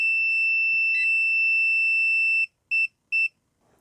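A ZOYI ZT-1000R insulation tester emits a loud, steady high-pitched electronic tone that holds for over two seconds, then breaks into two short beeps, with silence between them.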